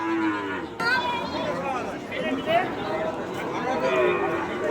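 Cattle lowing repeatedly at the Ambari cattle market, a large livestock fair, amid a dense crowd murmur and chatter; the moos rise over steady background voices throughout.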